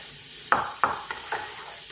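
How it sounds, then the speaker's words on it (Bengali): Raw potato dropped into hot oil during a Bengali poppy-seed dish with ridge gourd, giving a steady close sizzle with a few sharp clinks and stirs. "এই যে দেখুন, এই একটা আলু তেলে দিলাম"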